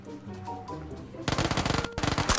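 Rapid automatic gunfire in the video game PUBG Lite, two loud bursts of fast repeated shots in the second half following quieter in-game ambience.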